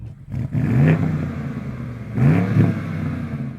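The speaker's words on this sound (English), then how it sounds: "This M550i has a glorious V8 engine, and it sounds nice on the outside." A 2021 BMW M550i V8 car engine revs up twice with deep, rising roars, settling back to a throaty idle between bursts; close and loud, no talking.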